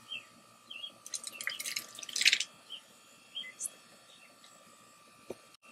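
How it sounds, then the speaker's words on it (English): Sausage is dumped into a seafood gumbo pot outdoors, making a few wet splashes and liquid plops that cluster in a short burst, then scattered drips in a quiet outdoor setting. "now we're going to dump the sausage in the pot"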